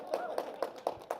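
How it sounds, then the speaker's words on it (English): A few individual claps from an audience at a web developer conference talk, spaced roughly a quarter second apart, sparse and moderately near over a quiet room. "Let's just do one clap, though"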